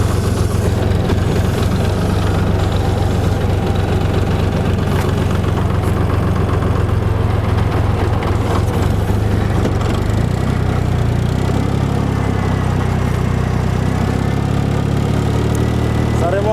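A tractor engine runs steadily with a rotary tiller working spring soil, a loud, continuous low rumble that shifts slightly in load toward the end, with no talk.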